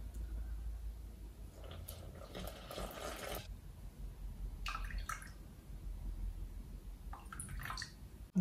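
Warm water, about 37 degrees, poured into a Thermomix bowl for pizza dough, a steady close stream with splashing bursts over a constant low hum.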